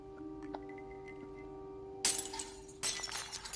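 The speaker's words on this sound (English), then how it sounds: "Idiot, you broke your glass." A drinking glass shatters in two loud bursts, a sharp crash followed by a second bright spill of breaking shards, over a steady electronic hum in an indoor scene.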